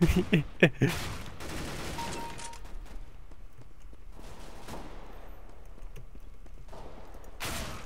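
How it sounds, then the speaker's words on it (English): Shotgun blasts in Counter-Strike: Global Offensive: a quick cluster of sharp, loud shots at the start, then quieter game ambience with faint scattered sounds and another burst at the end. "shotgun to the face"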